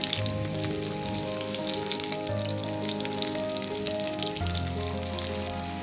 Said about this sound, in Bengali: এরপর কড়াইতে দিয়ে দিলাম পেঁয়াজ কুচি, এরপর দিয়ে দিলাম রসুন কুচি